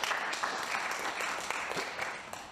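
An audience at a Human Rights Day lecture gives a round of applause, soft, even clapping at a fairly quiet level across the whole stretch.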